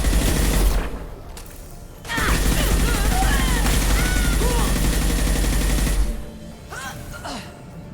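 Heavy sustained automatic fire from a gunship in the sci-fi game Mass Effect 2, loud and continuous with a short lull, mixed with mechanical game effects and whooshing sounds.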